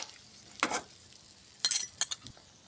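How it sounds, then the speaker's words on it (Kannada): Sweets frying in hot oil: sharp sizzling bursts crackle in short spurts between quiet gaps, close and fairly loud. "ಈ ರೀತಿ ಕೆಂಪಿಗೆ ಕರಿದವ್ರಿ ಎಣ್ಣೆ ಒಳಗೆ"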